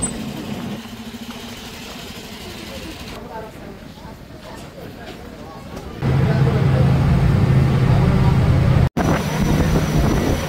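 Ship engine drones low and steady aboard a river ferry carrying motorbikes across from Bagmandla to Veshvi in Konkan, growing louder and rougher midway with a brief dropout, under wind and occasional voices nearby.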